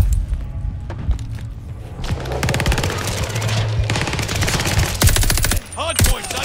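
Rapid automatic gunfire rattles in Call of Duty Vanguard, with dense sustained bursts of loud shots and a heavy low boom near the end.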